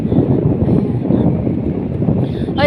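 Strong, cold wind blows outdoors, buffeting the microphone with a continuous loud, low rumble and gusty roar.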